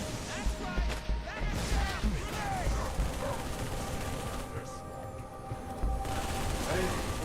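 Rapid gunfire bursts and explosions from a Halo 2 battle crackle continuously over busy game action, with voices talking over the shooting.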